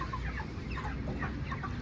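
Chickens at a chicken shop cluck in quick, repeated bursts, close by over a low, steady background murmur, with no clear speech.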